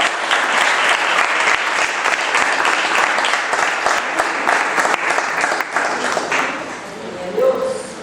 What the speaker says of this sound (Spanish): aplaudan a Él